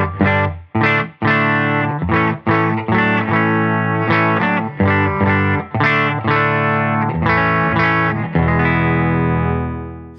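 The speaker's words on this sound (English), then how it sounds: "I am plugged into a Benson Amps Monarch Reverb Plus." Electric guitar played through a Benson Amps Monarch Reverb Plus amp, a Sipe Guitars OH-19, strumming a series of rhythmic chords with crisp attacks and a final sustained chord ringing out.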